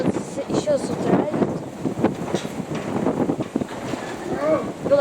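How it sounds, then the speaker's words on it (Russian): Strong wind buffets an outdoor microphone during pigeon training with Nikolaev pigeons, a rough continuous rumble and gusting under someone talking throughout. "Ветер сейчас такой сильненький."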